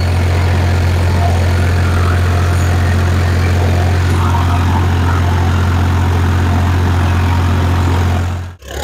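A 2023 Farmtrac 60 Powermax tractor engine idles loudly and steadily with a deep, rumbling drone that cuts off abruptly near the end.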